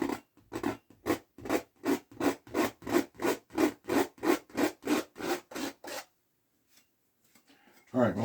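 Paint is scraped off a painted canvas in a run of about fifteen evenly spaced rasping strokes, close and crisp, followed by a pause and a brief bit of talk.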